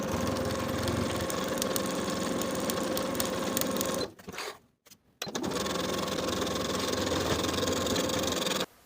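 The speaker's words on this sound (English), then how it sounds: "Sew the side and bottom edges with a 5/8 inch seam allowance." A sewing machine stitches the side and bottom edges of a pocket lining for a Simplicity 8742 cardigan, running in a steady, close whir. It cuts out for under a second midway, then resumes and runs on evenly.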